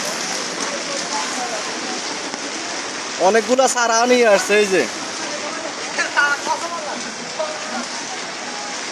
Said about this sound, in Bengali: বৃষ্টি আর বৃষ্টি হইতেছে, প্রচুর বৃষ্টি